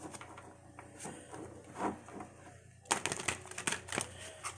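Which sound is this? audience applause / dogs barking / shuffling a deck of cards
shuffling a deck of cards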